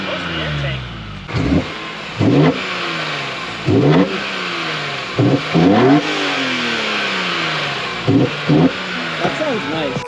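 A 2021 BMW M4 Competition engine revs hard in repeated bursts, each roar climbing and falling over a steady idle, with people talking between the revs.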